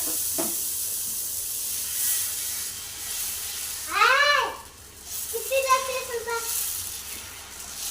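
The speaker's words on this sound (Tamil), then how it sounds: "தோசை ஊற்றலாம்." Dosa batter hits a hot pan and gives off a steady, airy sizzle that runs on beneath a child and an adult talking nearby.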